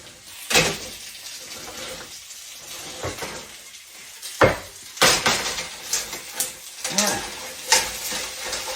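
A metal spatula scrapes and stirs chicken gizzards frying in a pan, with repeated sharp scrapes and clanks against the pan over a steady sizzle, close up.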